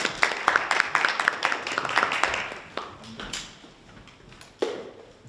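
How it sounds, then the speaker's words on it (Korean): Scattered clapping at a Busan labour forum as a city council member is welcomed to give a congratulatory address, fairly quiet and uneven, strongest early and then thinning into sparse claps. "큰 박수로 모시겠습니다."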